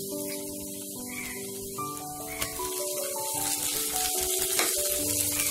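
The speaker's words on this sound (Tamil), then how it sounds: "எல்லாம் சேர்த்துட்டு நல்லா வதங்க தொடலாம்." Onion paste sautéing in a pan for a tamarind cowpea curry, a continuous moderate sizzle and frying hiss with a few light scrapes, no voices.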